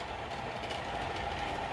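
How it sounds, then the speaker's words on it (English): A passenger train on the Sunset Limited route rumbles steadily as it enters the 6.3-mile Rawlins Pass Tunnel, built in 1927, giving a continuous broadband roar with no distinct beats. "As that train heads on into the tunnel."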